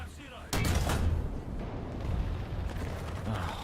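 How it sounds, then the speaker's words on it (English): A single loud gunshot in a video game bursts out suddenly, followed by a sustained rumbling, mechanical roar that fades slightly, with a voice faintly present under it. "that was an awful shot"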